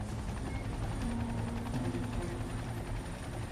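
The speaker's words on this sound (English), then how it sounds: "The helicopter drops Priscilla a life ring" Helicopter hovering low over an icy river during a plane-crash rescue, its rotor drone steady and loud throughout, with no one talking.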